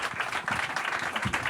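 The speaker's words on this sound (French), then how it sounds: "Tous les deux sont là et vous pouvez les applaudir." An audience applauds two industry experts, Jean-Yves Clairet of ExxonMobil among them, at a presentation on HFO refrigerants; the clapping is steady and moderately loud throughout.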